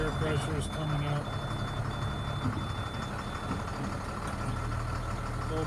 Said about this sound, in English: we'll just look at the engine a little bit while it's running